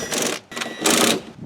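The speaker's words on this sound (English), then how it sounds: "we'll go ahead and put the screws back in it" Screws driven back into the plastic housing of a GM wiper pulse board module by a powered driver, two or three short whirring bursts separated by brief pauses, close and fairly loud.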